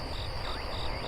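Crickets chirp steadily at night in a radio drama scene, a dense continuous trill that fills the quiet with no voices over it.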